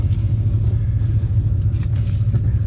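A BMW M5 Competition at launch gives a loud, close, steady low engine rumble that holds evenly throughout with no voices over it.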